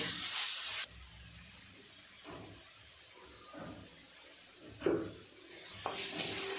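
Mustard oil sprinkled over hot cabbage leaf paste in a pan gives a steady close hiss that swells into brief sizzling bursts as the oil hits the hot surface.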